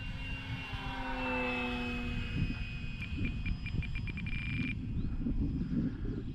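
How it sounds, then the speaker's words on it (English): Remote-controlled model airplane with landing flaps flying under a cloudy sky, a steady engine whine with shifting pitch holding throughout, fairly distant, joined by a brief pulsing tone partway through. "Like I said, I haven't flown this plane in forever."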